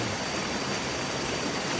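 Waterfall at Ban Huai Huat in Chan subdistrict, water dropping over a high cliff, heard as a steady, dense broadband rush with no breaks, close and even in level throughout.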